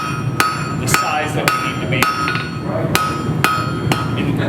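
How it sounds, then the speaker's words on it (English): Steel sword blade is hammered to a taper at a forge, with sharp ringing hammer blows landing in a steady rhythm about every half second, close and bright over a low background hum, with brief talk under the strikes. "I'm just towing in with my hammer, using that as a fuller."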